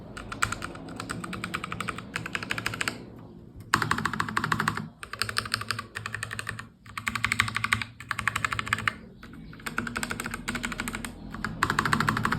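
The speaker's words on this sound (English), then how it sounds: "it's just a little sound you can actually expect when it comes to using this keyboard" Steady typing on a Satechi SM1 mechanical keyboard with brown switches, a dense run of clicky keystrokes in bursts with brief pauses, close and clear, no talking.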